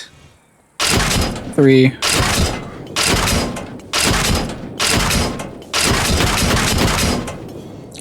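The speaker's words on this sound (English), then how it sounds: "The AP round will pierce right through the BTRs." Armour-piercing rounds fire at BTR armoured vehicles in Arma Reforger. About six heavy, booming shots land at roughly one-second intervals, each loud and close with a long decaying tail, and a brief metallic ring follows the first.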